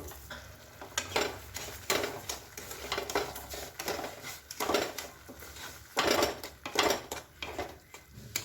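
Pineapple pulp and sugar for halwa roasting on low heat in a pan, with a spoon scraping and stirring in repeated strokes over a soft, steady sizzle, close and fairly loud.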